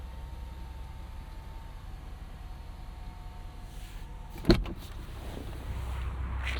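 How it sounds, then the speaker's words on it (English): Power sunroof on a 2024 Genesis G70 3.3T sliding open, a quiet steady electric motor hum inside the car, with a single sharp click partway through before the whirr continues. "We have a power sunroof"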